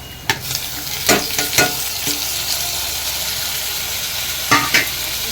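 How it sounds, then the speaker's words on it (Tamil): Tomatoes hit a pan of softened sautéing onions for a chickpea kulambu, giving a steady close sizzle broken by several sharp stirring scrapes near the start and again toward the end, with no talking. "இப்போ வந்து தக்காளி போட்டுக்கலாம்."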